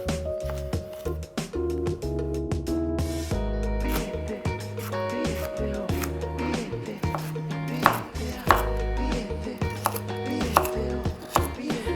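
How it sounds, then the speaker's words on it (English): A knife roughly chops celery and a carrot on a board, rapid uneven strikes in quick bursts, close and clear with no talk. "Again, just roughly chop this, it's fine. I'm going to roughly chop one carrot as well."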